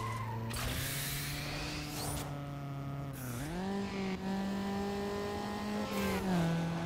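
A racing car's engine in Need for Speed: Underground roars steadily under a nitrous boost, revving and climbing in pitch in repeated surges, with mechanical whine throughout and no speech.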